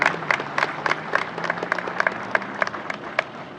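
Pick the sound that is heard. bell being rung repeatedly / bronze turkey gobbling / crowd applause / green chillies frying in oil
crowd applause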